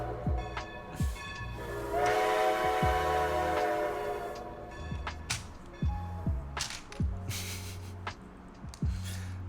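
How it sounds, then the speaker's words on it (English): Played-back train sound effect: a steam train chugging in a rhythmic pattern with hissing bursts and a sustained whistle blast partway through, moderately loud and without speech. "Here's a train sound for you."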